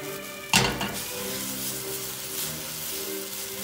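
Food browns in butter in a pan, a steady close sizzle that opens with a sharp clank of metal against the pan and keeps crackling evenly without any voices.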